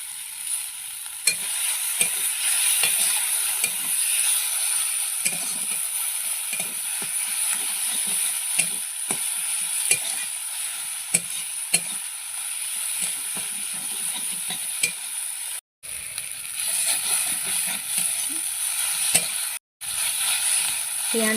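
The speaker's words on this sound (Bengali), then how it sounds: "পেঁয়াজ লঙ্কাটা ভালো করে ভাজা ভাজা হয়ে গেলে মাছের ডিমটাও দিয়ে দেবো, দিয়ে ভালো করে ভেজে নেব।" Fish roe frying with onion and chili in a pan, a continuous hissing sizzle broken by frequent stirring scrapes and taps, with two brief dropouts near the end.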